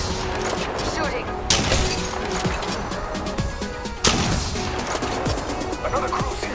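Rapid gunfire in the mobile battle royale shooter Apex Legends Mobile, dense crackling bursts with sharper heavy shots standing out, mixed with game sounds and voices.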